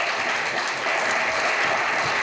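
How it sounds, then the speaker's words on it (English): Convention panel audience claps steadily for the packaging artists on stage, a dense, even wash of applause from a large room with no talk over it. "round of applause for these men"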